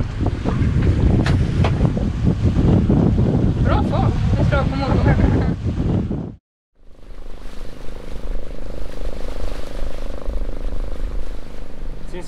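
Sailing boat under way off the Philippines, with loud gusting wind buffeting the microphone and water rushing along the hull, broken by a brief dropout before steady wind and sea noise resume.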